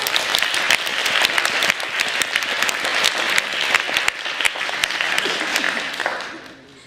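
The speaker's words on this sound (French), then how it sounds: "Ça mérite des applaudissements." Loud, close audience applause at a stage show, many hands clapping briskly and continuously for nearly seven seconds before fading out, with a few faint voices mixed in.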